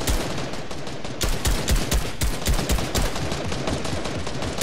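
Automatic gunfire crackles in a video game arena match, with rapid, dense bursts of shots that are loud and continuous, briefly easing before resuming at full intensity, with no talking.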